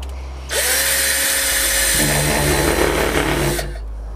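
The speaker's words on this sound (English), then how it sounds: "So I'll just grab the drill." A power drill whirs steadily for about three seconds, loud and close, its motor pitch wavering slightly under load before it winds down, while drilling a cast out of sand.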